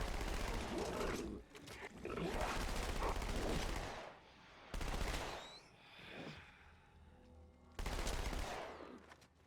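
Dual-wielded guns firing in the Halo 2 video game, heard as loud, dense bursts of rapid automatic gunfire separated by short quieter gaps.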